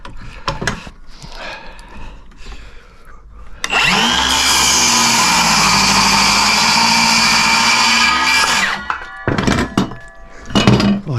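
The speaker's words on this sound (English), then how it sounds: "I cut that knot out as well." A power saw cuts a knot out of a timber roof rafter, a loud sustained whine of about five seconds bracketed by knocks and handling clatter before and after.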